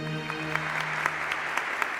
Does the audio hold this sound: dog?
no